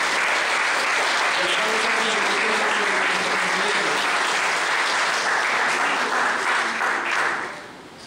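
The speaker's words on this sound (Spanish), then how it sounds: "pido un aplauso por favor para la magistrada ponencia" A lecture audience at a Peruvian university criminal law course applauds a magistrate speaker with a dense, sustained wash of clapping that holds steady and then tapers off near the end.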